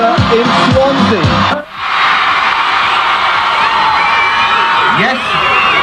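A crowd at a touchdown roadshow in Swansea Leisure Centre cheers and whoops loudly and continuously, a dense wash of shouting voices with a brief dip partway through, close and energetic.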